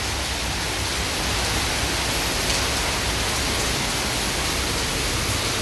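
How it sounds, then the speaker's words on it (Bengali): Heavy rain from a storm pours down in a dense, unbroken roar of broadband noise, steady and loud from start to finish, with no voices. "ভালো ঝড় বৃষ্টি হচ্ছে"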